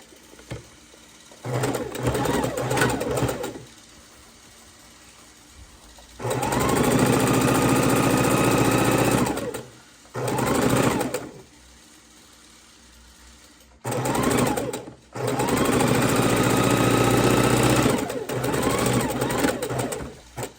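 A sewing machine stitches quilt fabric pieces laid right sides together. It runs close and loud in several bursts of a few seconds each, separated by short quiet pauses.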